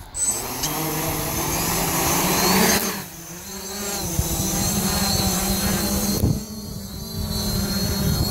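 A drone spins up and lifts off, its motors giving a steady loud whine that shifts pitch as it climbs and then hovers in wind, close by with no talk.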